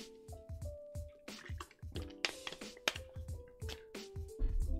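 Someone drinking water in close gulps and sips, a run of wet, squishy swallowing sounds repeating every half second or so over faint background game music.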